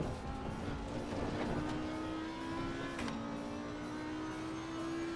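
An Audi race car engine drones in the Assetto Corsa Competizione racing game on a greasy track, with a steady, fairly quiet note that slowly rises and has a brief gear shift near the middle.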